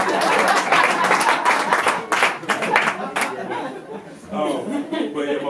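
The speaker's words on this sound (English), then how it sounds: "big hand clap for my wife" A theater audience at a one-man show claps for the performer's wife, a burst of mixed clapping with chuckles and chatter that thins out toward the end, voices mingling throughout.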